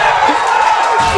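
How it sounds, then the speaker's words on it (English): Tournament crowd at a Smash Bros. event loudly chanting and cheering in a packed venue, a dense sustained roar filling the whole short stretch with no clear individual voices. "The AZ chant coming out from the crowd right now."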